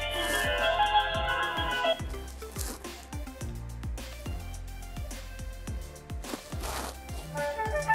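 Ringtone of a Vertu Signature S phone, 2012 to 2016 models, a busy electronic melody with repeated descending bell-like tones and a deep pulsing bass, playing loudly and continuously.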